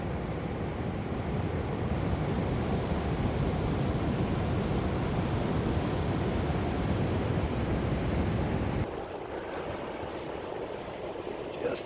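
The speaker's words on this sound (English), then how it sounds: "Definitely got some bigger waves today." Big ocean waves roll in on Shi Shi Beach in Olympic National Park as a loud, steady wash of surf, with wind buffeting the microphone, continuing throughout.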